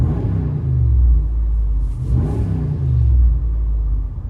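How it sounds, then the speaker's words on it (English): A Ram Power Wagon pickup with a 6.4L Hemi V8, heard from inside the cab, revs in deep swelling surges, a heavy low rumble that rises and falls twice with no talk over it. "Let you guys hear on the inside the Dodge Power Wagon."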